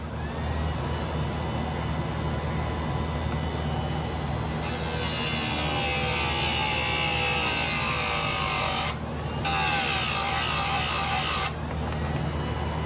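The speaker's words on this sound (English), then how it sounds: "It hardly creates any heat at all on these chains." A slow-speed grinder sharpening chainsaw chains hums steadily up close, then breaks into loud, harsh grinding bursts against the chain, with a brief pause between two long passes.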